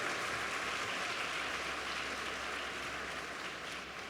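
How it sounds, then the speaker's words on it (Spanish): Church congregation applauding during a Spanish-language sermon, heard as a faint, distant, uniform wash of clapping with a steady hum underneath, continuous and without distinct individual claps. "dale un aplauso al Rey de Reyes y Señor de Señores."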